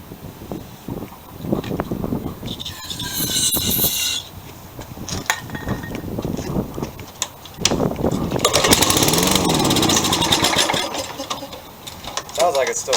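A small Toro two-stroke engine running rough and uneven, its loud buzzing drone surging and sagging close by, with wind noise and some talk in between.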